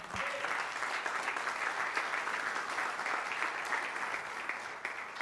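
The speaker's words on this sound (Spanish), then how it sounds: "Un aplauso" A church congregation at a Spanish-language sermon breaks into sustained applause, many hands clapping in an even, moderately loud roar that carries on for several seconds with no talking over it.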